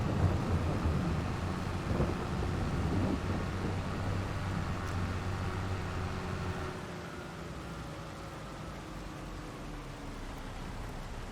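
Steady rain hisses in Farming Simulator 22 as a continuous, even wash of noise that thins slightly toward the end, with a low engine hum underneath and no talking.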